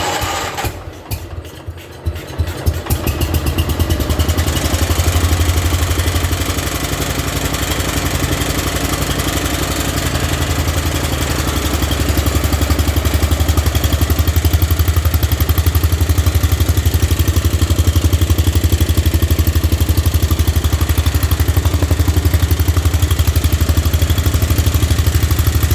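A John Deere 112 lawn tractor engine runs at close range, a steady loud clattering drone that holds for the whole stretch after a brief rough start, settling into an even, slightly rising rumble.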